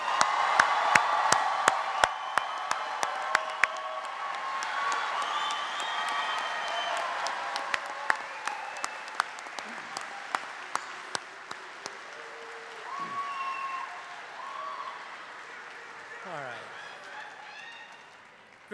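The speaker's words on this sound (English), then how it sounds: "How about a round of applause for all of our graduates?" A university fall commencement crowd applauds and cheers for graduates, sustained mass clapping from a large audience in a big hall with scattered whoops and sharp nearby claps, gradually fading over nearly twenty seconds.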